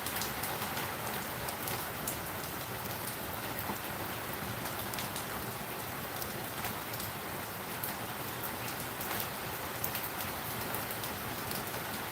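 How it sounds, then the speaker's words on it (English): Steady rain falls and patters on surfaces outdoors, a dense continuous hiss with scattered louder drops, unbroken for the whole stretch and with no voices over it. "If at any time you guys want me to stop talking to listen to the rain"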